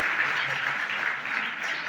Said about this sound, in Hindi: तालियां बजाइए भाई, हाथ दोनों ऊपर